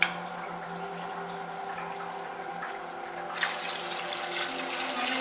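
Water poured into a cooking pot of mutton biryani rice, a continuous rushing pour heard close up that grows brighter and fuller partway through, with a low steady hum underneath.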